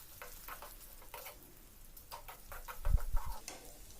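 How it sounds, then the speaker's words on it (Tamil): Onions and curry leaves sauté in a pan, a light crackling sizzle with bursts of stirring scrapes and a few low thumps near the end, close and fairly quiet with no voices. "வெங்காயம் நல்லா ப்ரௌன் கலர் ஆகுற வரைக்கும் நல்லா வதங்கட்டும்."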